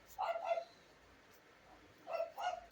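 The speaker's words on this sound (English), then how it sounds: "Sorry about the dog. It's not mine." A dog barks in two quick pairs, separated by a pause. The barks are moderately distant and fairly soft, heard in a quiet indoor room.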